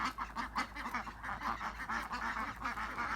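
Geese honk repeatedly in a garden, a dense overlapping chorus of loud, nasal calls close by, with no talking.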